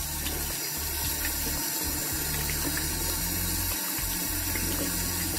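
Hot tap water runs steadily into a sink for a thorough rinse, a continuous close splashing stream with no talking.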